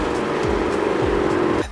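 A Ford Mustang on a test drive after fitting wheel spacers, giving a steady engine and road hum throughout that cuts off near the end.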